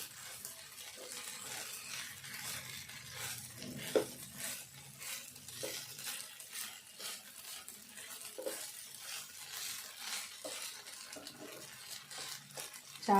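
Flattened rice (poha) being stirred and mixed in a pan, a steady scraping and rustling with soft sizzle underneath, repeated strokes close by, with faint talking at times.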